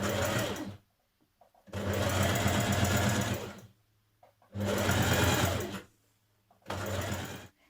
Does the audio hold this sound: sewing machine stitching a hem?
yes